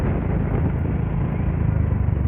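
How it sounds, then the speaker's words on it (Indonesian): A motorcycle with a leaking exhaust rumbles loudly and steadily up close on a ride, a dense low engine drone with a rough, sputtering edge and no break. "ini knalpotnya bocor guys"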